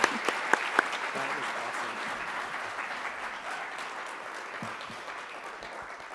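A conference audience at an innovation summit breaks into sustained applause, loud at first and slowly tapering over several seconds, with a few sharp individual claps at the start and a brief voice speaking over it.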